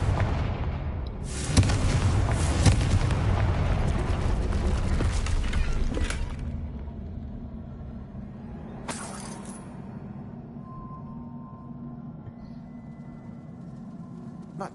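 Confringo blasting spell explosions in the Hogwarts Legacy video game: loud, crackling bursts with rumbling debris for several seconds, then a second short blast, fading into a low ambient hum.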